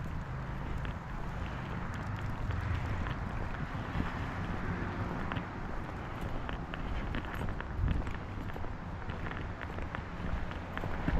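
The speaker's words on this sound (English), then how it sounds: "We had winds 20 plus mile an hour today. It's still gusting." Gusting wind of 20-plus miles an hour buffets the microphone on a chilly evening walk in Maine, a steady loud roar with surging gusts throughout and occasional footstep-like thumps, no talk.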